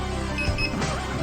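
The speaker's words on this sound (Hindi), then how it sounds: "अभी हम इसके अंदर लॉन्ग मोड में करके दिखाते हैं कि ये कितनी बीप करता है।" A smart cane for the blind powering on in long mode gives a couple of short, close electronic beeps over a steady, loud background hum.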